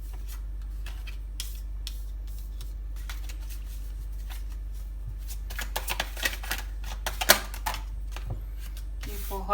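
A deck of tarot cards being shuffled, with irregular riffling and snapping bursts that grow busier and louder toward the end over a low steady hum.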